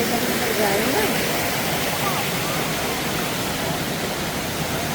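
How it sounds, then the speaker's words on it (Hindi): Kuang Si waterfall in Laos roars as a loud, steady broadband rush of falling water, with a voice briefly audible over it near the start. "ये पहुँच गए हैं वाटरफॉल पे।"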